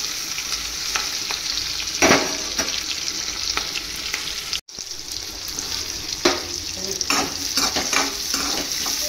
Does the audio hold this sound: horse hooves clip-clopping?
no